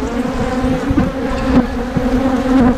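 Honeybees buzz steadily around nuc hives being assembled, a dense, continuous drone of many insects close by, with individual bees passing near and fading throughout.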